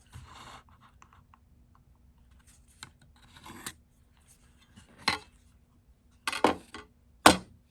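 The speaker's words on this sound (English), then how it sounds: "I'm going to use a tri-square to draw a straight line across." A pencil scratches a straight line across wood guided by a tri-square, with light scraping strokes and tapping that build to several louder scrapes toward the end, close and alone.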